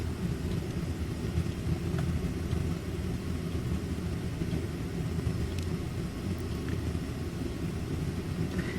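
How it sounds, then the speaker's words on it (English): A gas hot water heater burns with a steady, continuous low roar that stays even throughout, with no voices over it. "You can hear it's a gas hot water heater that's blowing gas"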